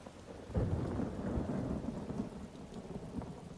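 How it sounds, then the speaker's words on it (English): In the video game Elder Scrolls Online, a deep rumble of thunder rolls in and lingers over steady rainfall, loud at first then slowly fading. "Very loud thunder."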